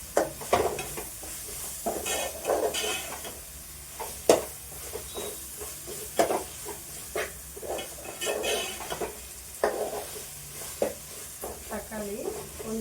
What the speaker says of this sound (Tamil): இதுலேயே நம்ம இந்த தக்காளியை சேர்த்துக்கலாங்க. தக்காளியை சேர்த்துட்டு நல்லா கலரி சேர்த்துக்கலாங்க.